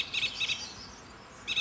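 A song thrush singing at first light from a treetop perch, clear repeated high chirped phrases in short paired bursts at the start and again near the end, fairly close and alone.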